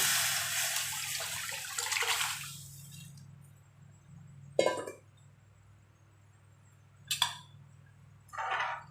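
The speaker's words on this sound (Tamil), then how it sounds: "இந்த ஸ்டேஜில் நம்ம அந்த புளி, தக்காளி இதெல்லாம் கரைச்சி ஊற்றிக்கலாம்" Dissolved tamarind and tomato water pours into a pot of rasam in a steady rushing stream for a few seconds, followed by scattered clinks and knocks of utensils over a low hum.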